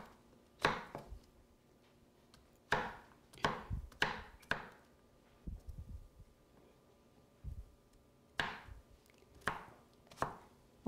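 A knife chops zucchini on a board for a frittata, with close, crisp cuts falling in quick clusters of two to four strokes separated by short pauses.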